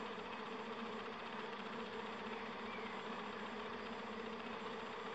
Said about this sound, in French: je vois bien les zigzags, les abeilles dans tous les sens